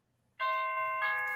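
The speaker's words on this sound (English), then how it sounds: "I love that bell." A vintage Christmas bell rings once close by, a bright sustained chime that swells again partway through and keeps ringing clearly.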